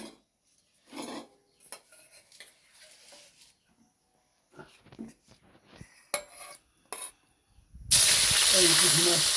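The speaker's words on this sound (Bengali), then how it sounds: "এই পুঁটি মাছ তেলে দিয়েছে।" Puti fish dropped into hot oil, a sudden loud continuous sizzle and hiss that takes over after scattered clinks of pots and utensils and some talk.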